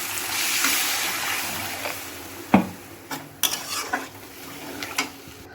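Water pours into a hot pan of spiced potato curry for a Bengali vegetarian dish, giving a broad hiss and sizzle at first, then a few light metal clinks and stirring scrapes toward the end.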